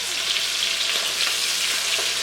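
Chicken pieces browning in a pan, a loud, even, close hissing sizzle with faint crackles, no talking.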